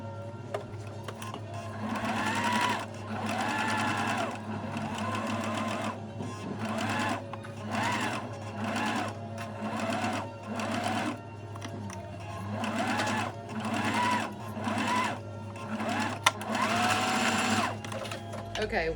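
A sewing machine stitches down the ear of a circle bear bag in repeated short runs with brief pauses, close and steady, with a low hum underneath and some soft talking between bursts.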